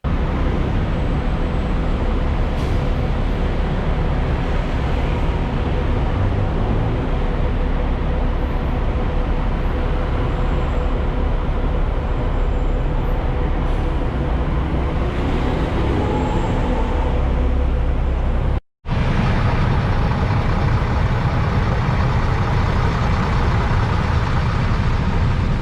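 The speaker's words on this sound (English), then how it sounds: "So let's listen to some of the sounds of the Big Mango, aka Bangkok, aka Krung Thep." Bangkok city street traffic makes a dense, steady rumble of engines and idling vehicles, loud and continuous with a brief dropout near the end, and no voices.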